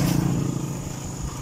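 A motorcycle engine runs steadily nearby, a low continuous rumble that holds at a constant level through the brief moment with no voices.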